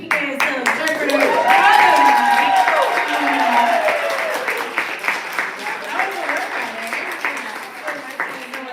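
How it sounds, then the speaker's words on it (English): A live audience applauds an interpreter at a Blue Hour reading event, a loud sustained wash of clapping that swells early and then gradually thins out, with voices and cheers mixed in. "Keep that applause going for the hardest working interpreter."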